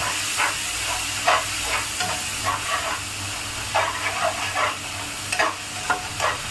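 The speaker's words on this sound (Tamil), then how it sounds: "வெங்காய தக்காளி எல்லாம் நல்லா வதங்கிடுச்சு" Onions and tomatoes sautéing in a pan for a fish curry give off a steady sizzle and hiss, broken by repeated scraping stir strokes, close by with no talking.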